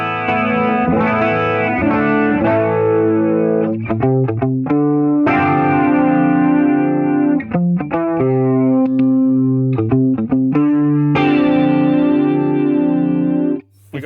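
An electric guitar played through a GMP pedal set to low gain, strummed chords and sustained notes with a lightly driven, chorused tone that rings loud and steady.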